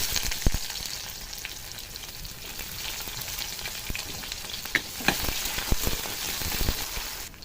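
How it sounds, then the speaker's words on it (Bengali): Chopped onions fry in hot oil tempered with nigella seeds and radhuni, giving a continuous hissing sizzle broken by a few stirring knocks, close up at moderate loudness, with no talking. "দিয়ে দেবো কেটে রাখা পেঁয়াজ"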